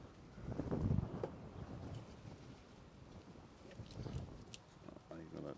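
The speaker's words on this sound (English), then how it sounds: "it's nice weather, but it's a bit windy" Gusty wind blows across a microphone outdoors on a sunny day during work on a car's brake servo, a steady rumbling buffet with louder surges, with no clear talk over it.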